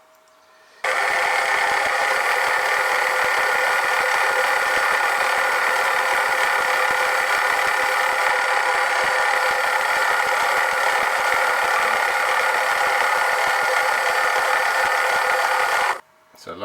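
Milling machine cutting a brass eccentric strap for a Stuart 10V steam engine with aluminium cutters, a loud continuous steady hum with fine rapid chatter, starting and stopping abruptly, close and alone.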